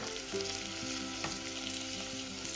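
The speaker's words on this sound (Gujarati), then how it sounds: "મેં કોબીને શેકી લેવાની. થોડી શેકાઈ જાય એટલે તેમાં ગાજર મૂકી દેવાના." Chopped cabbage and carrots sautéing in a pan for Swaminarayan khichdi, a steady close sizzle with faint stirring scrapes throughout.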